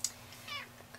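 A pet cat gives a single soft, short meow, faint and close, with quiet room tone around it.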